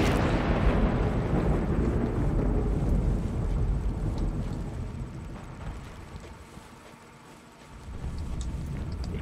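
Thunder in the Sniper Elite V2 video game, a long deep rolling rumble that starts loud, fades gradually, then swells again near the end, with no talk.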